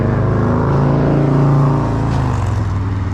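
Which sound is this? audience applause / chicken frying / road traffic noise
road traffic noise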